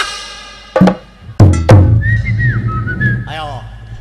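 A man in a Betawi comedy stage act struggles to whistle, producing a thin wavering tone between breathy bursts and thumps, with laughter and chatter around.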